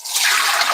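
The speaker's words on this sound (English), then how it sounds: "Let's drain all the water out" Water pouring off a pot of cooked green beans, a broad steady splashing rush that builds quickly and holds for under a second, close and fairly loud.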